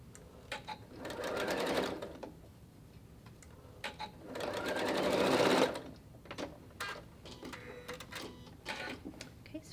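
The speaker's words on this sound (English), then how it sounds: "I like to sew keeping the quilting cotton on top since the knit likes to stretch a little bit." A sewing machine stitches quilting cotton and knit fabric for a face mask in two sustained, rhythmic whirring bursts, close and clear, separated by quieter clicks and handling sounds.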